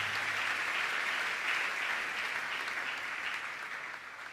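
A church congregation applauds during a Sunday service, dense steady clapping from many hands that fades slightly toward the end.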